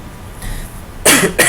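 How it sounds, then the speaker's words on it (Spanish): A single person coughs twice in close succession, loud and near, after a moment of quiet room noise. "Uy, qué tos."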